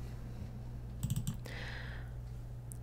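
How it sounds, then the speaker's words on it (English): A short burst of keystrokes on a computer keyboard, a few quick close clicks over a low steady hum, followed by a soft brushing sound. "enter the letter A and press Tab"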